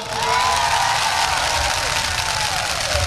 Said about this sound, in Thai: ขอเสียงปรบมือดังๆให้กับพี่น้องชาวอยุธยาด้วยครับ